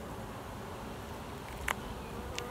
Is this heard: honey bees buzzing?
yes